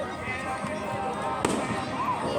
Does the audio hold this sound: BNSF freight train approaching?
no